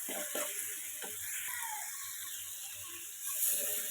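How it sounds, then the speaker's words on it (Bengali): Shrimp frying with spice paste in a pan for a shrimp and taro-stolon curry, giving a steady close sizzle with soft scraping stirs and a brief louder burst near the end. "তো চিংড়ি মাছ দিয়ে খুব ভালোভাবে এটা আমি কষিয়ে নিচ্ছি ভাজা ভাজা করে নেব"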